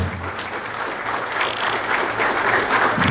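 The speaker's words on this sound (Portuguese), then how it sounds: "Gente, mais palmas, afinal, é um complexo." Loud, dense applause from a large crowd fills the whole stretch, swelling slightly toward the end.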